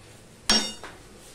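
A single sharp metallic clink rings out as a utensil strikes a cooking pot while kochur loti curry is stirred, followed by a softer scrape, close and alone against a quiet background.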